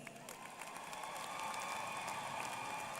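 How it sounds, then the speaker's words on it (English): Steady applause and cheering from a large commencement ceremony audience at SUNY Old Westbury, a dense wash of clapping hands that holds even and full for the whole stretch without breaks. "Let's give them a round of applause."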